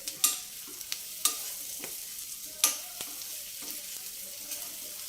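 Radish pieces stirred and fried in a pan for mullangi pulusu, a soft background sizzle broken by a few sharp clanks of a spatula on the pan at irregular intervals, close and fairly quiet.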